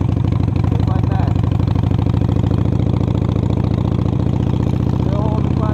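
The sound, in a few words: motorcycle engine running, riding slowly in first gear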